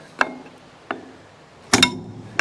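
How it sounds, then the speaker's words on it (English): A homemade ratcheting kindling splitter breaking a small piece off a firewood log, heard as a few sharp wooden knocks and a final loud double crack, close and isolated with quiet pauses between. "Let's go to the other side and see if we can just bust that little piece off."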